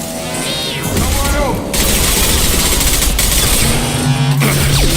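Rapid automatic gunfire bursts and booms in a Mass Effect Legendary Edition firefight, loud and dense, with sci-fi weapon whines and mechanical effects layered over the shooting.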